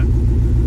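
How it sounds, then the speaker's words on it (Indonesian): Ultra4 tubular off-road racing car engine, a loud low rumble as the engine turns over and catches, steady and close with no talk. "Oke, kita starter."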